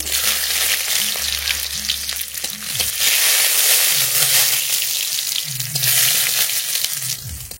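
Loud, steady sizzling of radhuni seeds and whole garlic in hot mustard oil in a kadai, with occasional stirring scrapes and clinks of a utensil against the pan.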